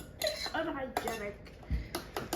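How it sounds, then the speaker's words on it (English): Dishes clink as a plate is taken during a tuna cracker salad prep, several sharp knocks of crockery and cutlery spaced across a couple of seconds, close and moderately loud, with faint voices in the room. "Next, take a plate."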